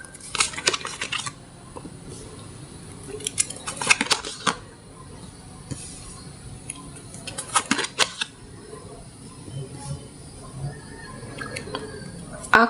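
Tarot cards are handled and drawn in a tarot reading, with light irregular flicks, taps and shuffling clicks coming in scattered clusters, close and soft, over a quiet background.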